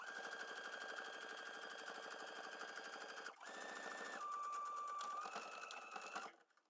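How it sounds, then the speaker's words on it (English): Sewing machine running a straight stitch along the seam of homemade trousers, a fast, even mechanical whir close by that pauses briefly midway, then resumes and slows to a stop. "Let's start by sewing a straight stitch from this edge to this edge."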